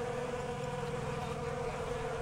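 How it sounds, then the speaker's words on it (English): Bees buzzing around a beehive that smells of honey and pollen, a steady low drone with layered hum that holds at a constant moderate level, close by and without talk. "just happy that there's bees around."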